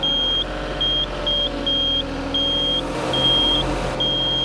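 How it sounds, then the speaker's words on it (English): A Kubota tractor's alarm beeps repeatedly in short, evenly spaced high tones over the low rumble of the running engine, close and clear. "I'm turning the alarm off, I've had enough of that"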